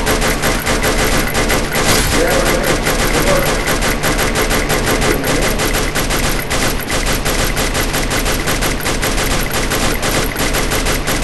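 Rapid automatic machine-gun fire from the mobile shooter game Free Fire rattles on without pause, dense and loud bursts stacking into a continuous barrage.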